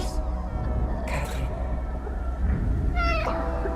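A cat meows in the video game 11-11 Memories Retold, a short rising call near the end over a low ambient rumble and background music.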